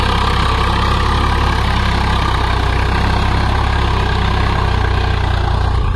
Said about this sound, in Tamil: இன்ஜினோட சவுண்டு எந்த அளவுக்கு இருக்குன்னு சொல்லிட்டு பாருங்க.